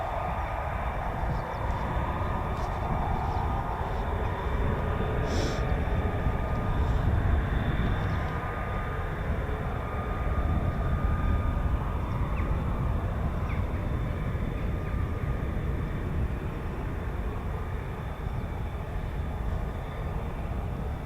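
An F-35B stealth jet with a Rolls-Royce engine roars in a steady, broad engine rumble that holds loud and continuous throughout with no talking, some faint distant clicks scattered over it.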